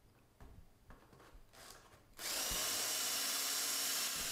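A drill bores into a wooden workpiece clamped in a mini pocket-hole jig. Quiet handling and rubbing come first, then the drill starts and keeps up a loud, steady, high whirring grind to the end.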